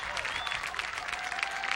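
Football crowd in the stands at a 1996 college game, Buena Vista against Wartburg, cheering and clapping on their feet, a steady dense roar with applause throughout.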